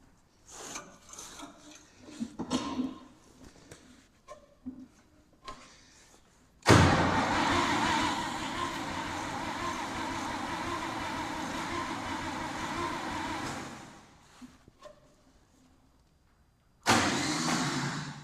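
On an abandoned Farmall 560 tractor with a failing starter, the engine cranks without catching, a loud sustained grinding whir lasting several seconds, then stopping, followed by a second cranking burst at the end after quieter knocks and rattles.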